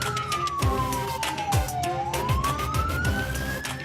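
An ambulance siren wails nearby in a long, sweeping tone that falls and then rises, over steady road traffic.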